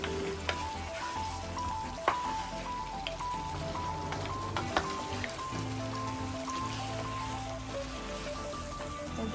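Mutton curry meat sautéing in a pan, a soft, continuous crackling sizzle with a few faint clinks of utensils, fairly quiet and steady.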